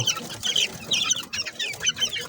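Chicks being fed give bright, rapid chirps that overlap in a busy, fairly close chorus, with short breaks between bursts and no talking.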